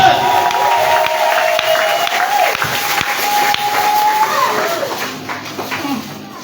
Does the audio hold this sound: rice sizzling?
no